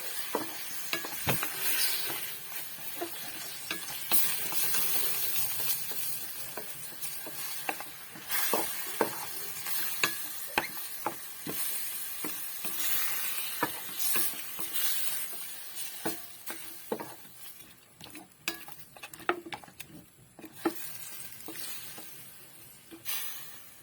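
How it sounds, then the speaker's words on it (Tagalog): Pork adobo cooking with vinegar in a pan: continuous hissing sizzle with frequent spoon or spatula clicks and scrapes as it is stirred, fairly close and steady, with no talking. "Haluin natin."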